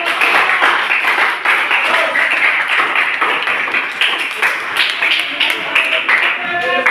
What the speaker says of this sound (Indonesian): silakan kasih aplaus dulu untuk